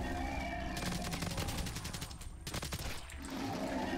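Rapid automatic gunfire in Black Ops 3 custom Zombies, sustained bursts of closely spaced shots over constant game noise, with a short pause before firing resumes, loud and near.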